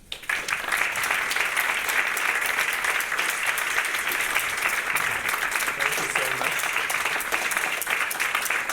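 An audience at a talk on the telenovela as a motor for social change breaks into loud, sustained applause that carries on steadily from start to finish.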